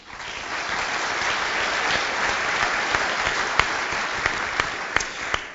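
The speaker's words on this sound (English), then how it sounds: "So give yourselves a round of applause." An audience at a Republican candidates' debate in Northeast Nebraska applauds, a dense, sustained wash of clapping with a few sharper individual claps standing out near the end.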